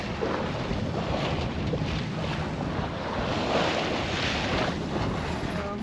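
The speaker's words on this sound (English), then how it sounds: "And it's a good windy day." Strong wind buffets a sailboat under head sail alone at sea on a windy day, engine off; continuous gusty rushing and microphone wind noise mix with water swash, loud and unbroken, with no talking.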